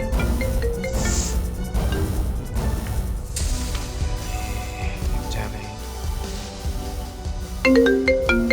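A mobile phone rings again and again with an incoming call, a tinkling melodic ringtone that repeats in bursts with clattering noises between, and a fresh ring starts near the end.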